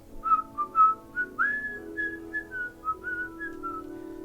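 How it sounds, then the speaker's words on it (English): A whistled rendition of the Itsy Bitsy Spider tune, a clear melodic line of short rising and falling notes played as one continuous phrase, heard up close with no talking. "All you can hear is the whistling tune."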